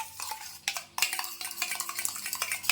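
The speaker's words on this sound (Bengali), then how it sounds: "এটাকে ফেটিয়ে নেওয়া হবে ভালো করে যাতে না কোনো ফিট থাকে" Drained yogurt (doi) is whisked smooth in a bowl, a quick, rhythmic series of close scraping and clinking strokes with no talk.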